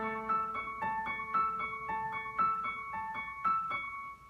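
Piano notes in octaves repeat in a steady, even rhythm, clear and moderately quiet, with no talking.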